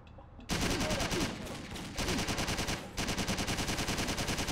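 Gunfire in the Driv3r video game: rapid automatic bursts rattle loud and close in long continuous strings, separated by brief pauses, with no voices.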